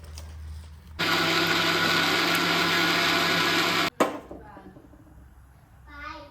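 A mixer grinder runs loud and steady for about three seconds as it grinds coriander into a paste for a methi rassa bhaji, then cuts off abruptly, followed by a clunk and quieter room sounds with a brief voice.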